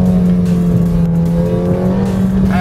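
A McLaren 720S sports car driven on city streets in Mexico, its engine giving a steady, loud, close drone with a rising tone near the end and no talk.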